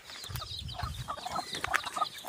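Hens clucking close by, several short overlapping calls and squawks over a low rustling background, fairly steady throughout.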